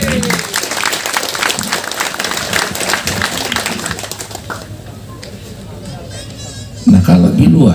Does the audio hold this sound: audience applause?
yes